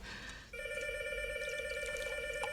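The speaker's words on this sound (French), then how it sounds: "Téléphone?" A telephone starts ringing with a steady electronic trill that holds loud and unbroken after a quiet start, with faint background noise beneath.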